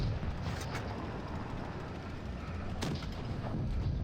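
Heavy tank cannon shots in WOT Blitz, a couple of deep booming blasts standing out over a steady rumble of battle noise, with no talking over them.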